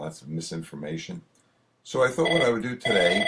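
A telephone rings under a man's continuous speech, its tones partly masked by his talking.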